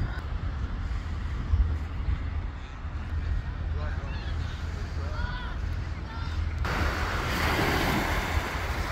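Sea waves at Coquina Beach, Florida, washing ashore in a steady surf wash mixed with gusting wind noise on the microphone, growing louder toward the end.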